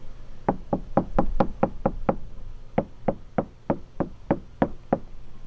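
Knuckles rapping on a car door panel treated with sound deadening, about seventeen dull, close knocks in two quick runs with a brief pause between them.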